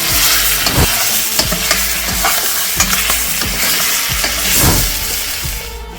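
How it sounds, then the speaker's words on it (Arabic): Freshly flipped chicken pieces sizzle loudly and steadily in a hot pan, with occasional scraping and clinking from stirring layered over the constant close frying hiss. "كده معايا الفرخه خدت لون من الناحيه دي، قلبتها على الناحيه الثانيه تاخد لون"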